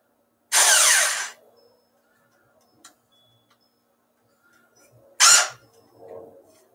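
A cheap cordless power drill spins at high speed while blinds are mounted, giving two loud, close whirring bursts, a long one then a short one, with faint handling clicks between.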